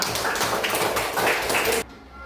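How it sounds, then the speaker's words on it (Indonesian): Students in a classroom clap for a classmate during a teaching practice session, a dense burst of hand claps lasting nearly two seconds before cutting off abruptly to quiet room tone. "Tepuk tangan untuk Piona."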